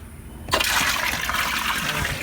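Water gushing steadily into a container for two horses in their stall, starting abruptly after a quiet moment and continuing as a loud, close rushing pour.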